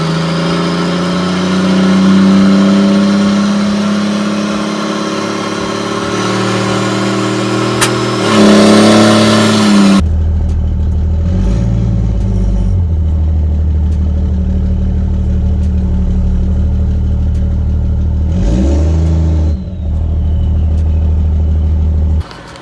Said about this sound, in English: Hopefully you guys can hear how loud this stack is.